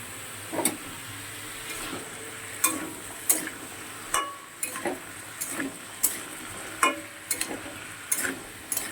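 Cut eggplant pieces frying in oil in a home kitchen, a soft sizzle underneath, broken by a string of sharp ticks and clinks from a spatula stirring the pan, spaced unevenly across several seconds.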